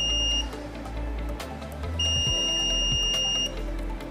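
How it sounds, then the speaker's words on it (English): Multimeter continuity tester on a MacBook Air logic board gives two long steady electronic beeps, close and clear, over a constant low hum from the workbench. "I'm just gonna give it a test with the continuity."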